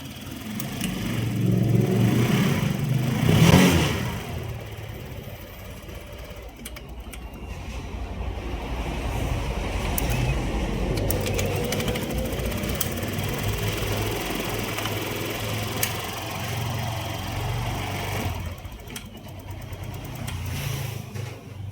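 A faulty motorcycle engine idles and revs unevenly up close, with a rough, sputtering running note and irregular surges.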